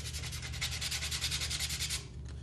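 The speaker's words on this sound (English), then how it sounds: "Today though, I'm just going to use the sandpaper." Sandpaper rubs by hand over a craft piece to give it a worn look, quick close rhythmic scratching strokes that fade after about two seconds.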